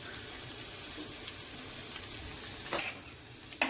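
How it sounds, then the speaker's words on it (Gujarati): Chopped onion and two green chillies sauté in oil in a pan, giving a soft, steady sizzle with a couple of sharp metallic scrapes from stirring near the end. "હવે એને 2 મિનિટ સાંતળી લેવાનું છે ડુંગળીને"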